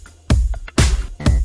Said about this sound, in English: Bit of percussion in there, which sounds like this on its own.